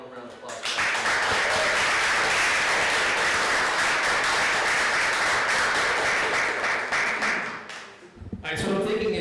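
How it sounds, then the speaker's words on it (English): A hall audience at a high school poetry awards ceremony gives a warm, sustained round of applause, loud steady clapping that briefly dips before picking up again. "Let's give a warm round of applause"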